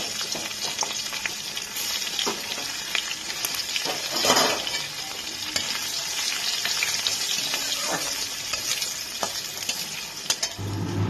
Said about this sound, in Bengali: রসুন কুচিটা দিয়ে একটু লাল করে ভেজে নিয়ে